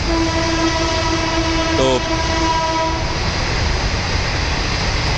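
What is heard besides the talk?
train passing near a railway station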